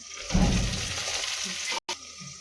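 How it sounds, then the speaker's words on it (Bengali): Potatoes and eggplant fry in a pan with a close sizzle and a stirring scrape near the start, then a quieter steady crackle, broken by a short gap. "আমার চাই আলু আর বেগুনটা খুবই সুন্দর করে ভাজা হয়ে গেছে"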